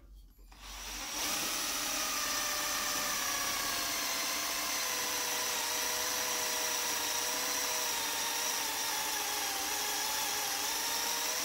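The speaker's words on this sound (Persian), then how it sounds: "با همین دریل کار سوراخ‌کاری رو انجام میدیم" A cordless drill drills holes, spinning up and then holding a loud, steady whine close by for a long continuous stretch, with no one talking over it.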